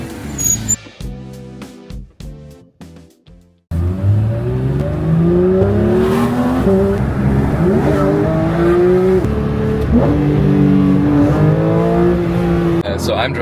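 A Porsche 992 GT3 Touring drives on forested mountain roads, its engine revving up and easing off repeatedly through the gears, close and loud, after a few seconds of brief, choppy sounds at the start.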